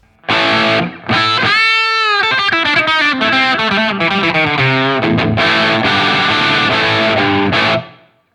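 Distorted electric guitar through a Line 6 POD GO on the Brit 2203 preset with room reverb, loud crunchy chords and sliding bends played alone, ringing out before a sudden stop.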